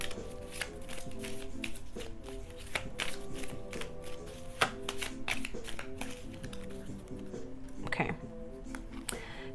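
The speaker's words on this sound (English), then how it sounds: "I'm gonna close out with these affirmation cards." Affirmation cards are shuffled in a steady run of crisp riffling snaps and taps, close and fairly quiet, with no talking over them.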